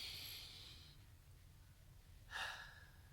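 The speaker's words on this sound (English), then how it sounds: "Breathe in." A person breathing deeply during meditation, soft and close: an airy exhale fades out, then after a quiet pause a sharper, hissing inhale follows.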